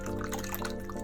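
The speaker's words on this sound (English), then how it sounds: "now I pull the milk in and then continue whisking all the ingredients together" Milk pours into a bowl of cake batter for a French apple cake, a steady liquid splash and trickle heard up close for about a second, with no voices.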